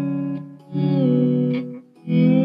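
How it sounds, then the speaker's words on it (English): Electric guitar notes played through a crescendo pedal in steel guitar style, each sustained chord swelling up from a soft start with no pick attack, rising and fading in smooth volume waves, close and clear without talk. "So when I put the crescendo pedal on, it gives me that."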